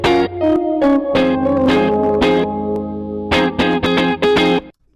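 Sampled electric guitar chords used as the basis of a beat, loud and upfront with effects-laden tone, played in short rhythmic bursts with brief gaps and a clean stop at the end.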